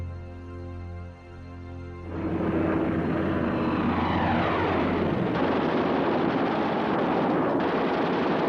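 WWII aircraft engines roar in, Stuka dive bombers alongside Messerschmitt fighters, starting as a low droning hum and swelling into a loud, dense, continuous propeller roar that holds steady to the end.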